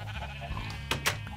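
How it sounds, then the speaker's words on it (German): Sheep bleating in Minecraft during shearing, a steady bleat bed under two quick sharp snipping bursts, fairly quiet and close. "Ich werde hier noch einmal die Schafe scheren."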